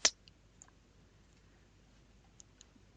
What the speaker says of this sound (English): And when we're finished, we just click Finish.